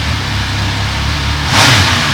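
An MV Agusta Turismo Veloce motorcycle engine runs at a steady idle hum, then briefly revs up louder near the end; nearby and with no talking.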